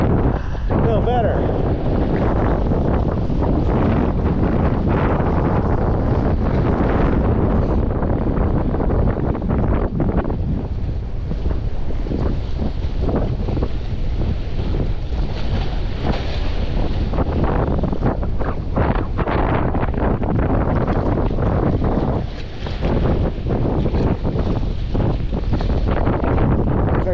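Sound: strong wind while fishing outdoors

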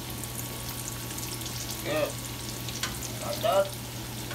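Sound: fry bake dough frying in hot oil

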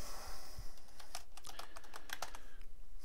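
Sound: typing on a computer keyboard

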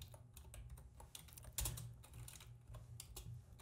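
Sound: typing code on a computer keyboard

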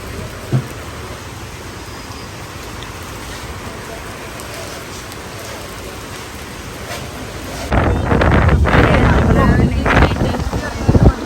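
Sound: rain falling

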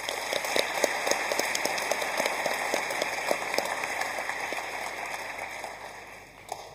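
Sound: audience applause for the principal

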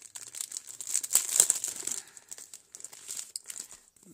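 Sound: small yellow paper envelopes being handled

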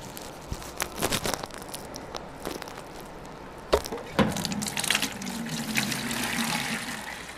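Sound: water filling a bucket

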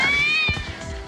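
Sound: calico cat meowing

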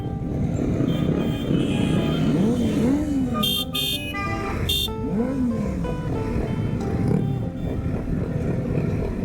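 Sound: group of motorcycles riding

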